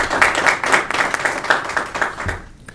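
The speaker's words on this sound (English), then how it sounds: "That was a delayed clap" A meeting audience at a general membership gathering breaks into brief, scattered applause, a few seconds of close, lively hand clapping that tapers off at the end.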